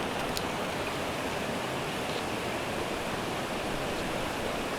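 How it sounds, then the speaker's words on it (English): Steady broadband rush of a waterfall along a winter hiking trail beside a fly fishing stream, loud and constant throughout with no breaks. "My God, there's another waterfall over there."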